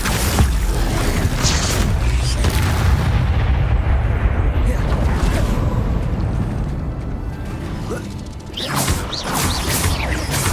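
The Bombarda explosion spell goes off in the Hogwarts Legacy video game, a loud, dense burst of booms and rumbling in the middle of busy battle noise, with a voice talking over it.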